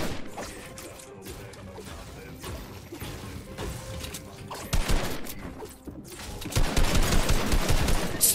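Rapid bursts of gunfire in the battle royale game Fortnite during a solo tournament, volleys crackling and growing louder and denser toward the end, with a voice talking over parts of it.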